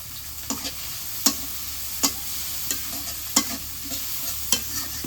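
Chilli and onion frying in hot oil give a steady, soft sizzle, broken by regular sharp scrapes and clicks of a spatula stirring the pan.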